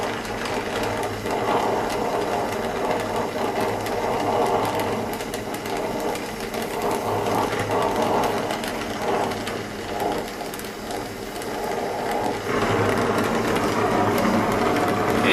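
Welding tack welds on metal edges for a pressure box, a steady, loud, buzzing crackle that holds nearly unbroken throughout with slight surges.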